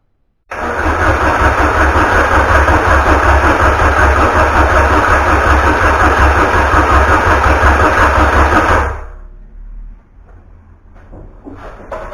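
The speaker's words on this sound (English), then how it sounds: "I primed the engine for the oil cycle around." A Peugeot 205 Rallye engine fires up abruptly and runs loud and steady nearby for about eight seconds, then shuts off, leaving faint workshop noises.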